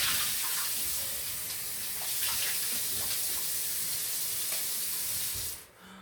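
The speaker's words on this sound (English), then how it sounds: "I usually always rinse my pans to make sure there's no dust in them." Tap water runs steadily into a pan held under a kitchen faucet for rinsing, a loud close hiss and splash that cuts off near the end. No one speaks.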